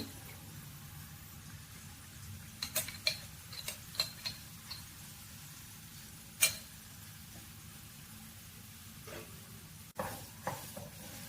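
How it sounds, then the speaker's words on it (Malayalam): Jackfruit halwa with jaggery and ghee is stirred in a pan, with scattered faint ticks and scrapes of the spoon at an uneven pace over a low background hum. "ഈ കളറ് മാറുന്നത് വരെ ഇത് നന്നായിട്ട് വരട്ടിക്കൊണ്ടേയിരിക്കണം."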